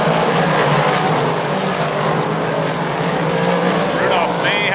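Race cars charge down the backstretch at Lernerville Speedway, a loud, continuous blend of engines with rising and falling whines from several cars. A faint voice carries over the engines.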